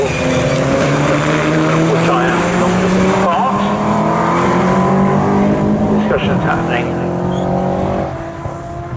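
Aston Martin Vantage GT race cars roar around the Snetterton circuit in qualifying, a sustained loud engine drone with rising and falling pitch as cars pass, under a commentator's voice.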